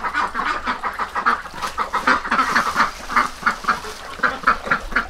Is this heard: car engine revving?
no